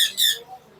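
One of a sun conure breeder pair lets out a loud, shrill squawk up close, followed by a brief softer chirp near the end.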